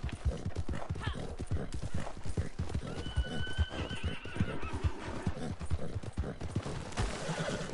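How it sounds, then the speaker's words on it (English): A horse in the video game Red Dead Online gallops at full speed, with a steady, rapid clip-clop of hooves throughout and a loud whinny partway through, over an outdoor game soundscape. "I treat these horses like they are a sports car in this game and just go full speed, full gallop, anywhere and everywhere"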